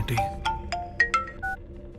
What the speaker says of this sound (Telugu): ఇది ఫోన్ చేస్తున్నాయేంటి?